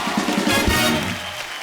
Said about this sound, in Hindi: एक बार रणवीर सिंह के लिए जोरदार तालियां हो जाए